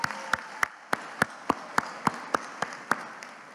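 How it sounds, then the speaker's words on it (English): Dinner-event applause, though it sounds thin: a single pair of hands clapping at an even, steady rhythm, about a dozen distinct claps over a faint room murmur. "let's have another round of applause for that beautiful love letter to any town"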